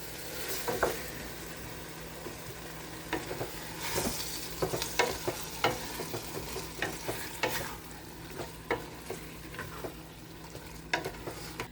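A soup of garlic, salt and black pepper is stirred in a pot, with a soft steady sizzle beneath scattered spoon knocks and scrapes against the metal. The sounds are close by and quiet, with no voices.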